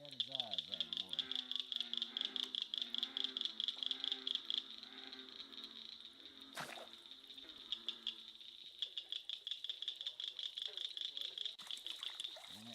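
Frogs calling near water, a rapid run of bright pulsed croaks repeating in bursts, fairly faint and sharing the scene with a voice and light water sounds.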